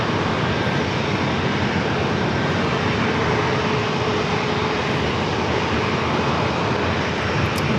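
A NetJets jet arrives at San Diego airport, its engines producing a steady, loud, unbroken rumbling roar throughout, close by and without voices.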